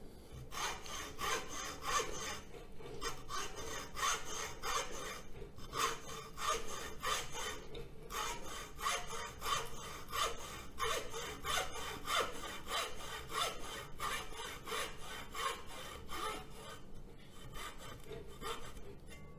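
A hacksaw cuts with steady back-and-forth strokes, rasping at an even rhythm for nearly twenty seconds, close but fairly quiet, with a few brief pauses between runs of strokes.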